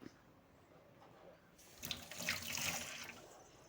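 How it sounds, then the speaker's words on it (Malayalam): Tap water running into a sink to thaw frozen chicken legs, a steady rushing stream that starts quietly and grows louder and fuller partway through, heard alone at close range. "അപ്പോൾ നമുക്കത് ഐസ് കളയാനായിട്ട് വെള്ളത്തിലിടാം."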